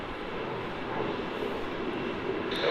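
Airplane landing on runway 16 at Melbourne Airport, a steady roaring engine rumble heard from a distance, holding at an even level.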